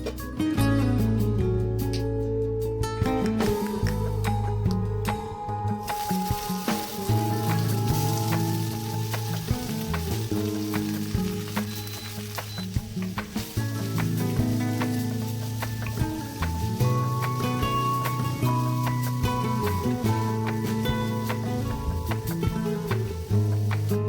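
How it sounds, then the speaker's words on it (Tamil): Mustard seeds, fenugreek, onion, garlic and tomato sauté in hot oil with a steady, continuous sizzle and crackle, close and fairly loud, under background music. "கடுகு வெந்தயம் போட்டு தாளிச்சிட்டு அப்புறம் வெங்காயம் அப்புறமா பூண்டு போட்டு நல்லா வதக்கிட்டு தக்காளியும்"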